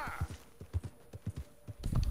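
Video game horse hooves clip-clopping at a steady trot, a sequence of about ten distinct, fairly close hoof knocks with a louder burst of noise at the end and no speech.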